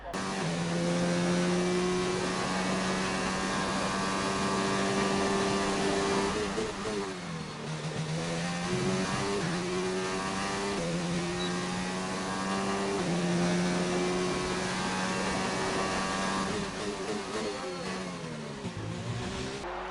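Formula One cars in a PS4 racing game lap the Albert Park circuit in Australia during qualifying, with loud, high-pitched engines whining and shifting gears continuously, pitch rising and dropping as cars accelerate and brake.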